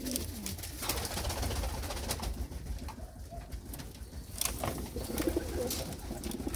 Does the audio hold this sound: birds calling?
yes